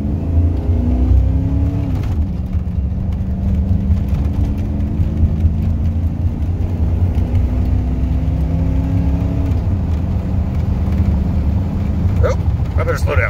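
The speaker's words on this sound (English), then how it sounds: "So it's a pretty good uphill on-ramp here." A truck engine with a freshly loaded tune accelerating up an uphill on-ramp at 5000 ft elevation: a loud, steady droning hum that climbs in pitch, drops at a couple of gear changes, then climbs again.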